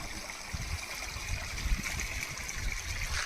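Water trickles and gurgles from a pipe set under a rock in Eravikulam National Park near Munnar, making a quiet, steady stream of flow throughout.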